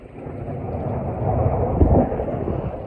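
Deep rumbling thunder during a thunderstorm in Olivehurst, a low rolling roar that builds over a few seconds and swells loudest near the end, heard close with no talking.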